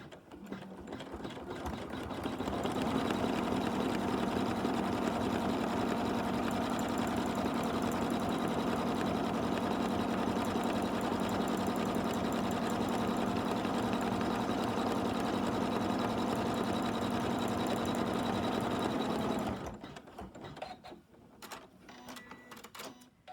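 A sewing machine stitches fabric for an in-the-hoop tissue case, running as a steady, loud mechanical whir for about sixteen seconds before stopping, with soft handling noises afterward.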